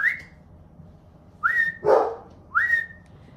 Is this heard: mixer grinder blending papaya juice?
no